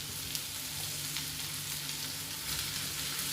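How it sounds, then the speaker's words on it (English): Vegetables with garlic, lemon zest and leeks sautéing in a hot pan for a ginger chilli stir fry, a continuous close, even sizzle with faint stirring and no talking. "Start to saute off these veg"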